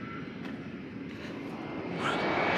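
An airplane approaching to land, its engine noise a steady mid-distance rumble and whine that grows louder toward the end.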